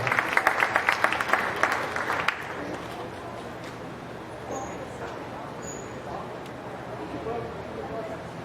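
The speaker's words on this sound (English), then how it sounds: "Give all these exhibitors a nice round of applause on a nice set of steers." Audience clapping in a fairground show arena after a class of beef steers is judged, a dense burst of applause for about two seconds that then fades into a steady crowd murmur.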